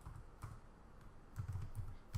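Quiet, irregular clicks of fingers typing on a computer keyboard, in short bursts with brief pauses between them.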